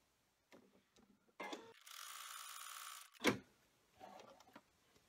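An embroidery machine stitches a tack-down seam on an in-the-hoop golf ball case, with a steady mechanical whir lasting over a second between short clicks and a sharp knock near the end.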